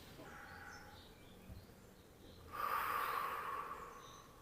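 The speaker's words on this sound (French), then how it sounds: "Inspirez à fond." One deep inhalation during a gentle yoga stretching routine, a close airy intake of breath swelling midway and lasting about two seconds over a faint quiet room background.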